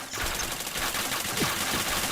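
Rapid automatic gunfire in a multiplayer video game, a dense continuous stream of shots filling the whole stretch at steady, fairly loud level, with no talk over it.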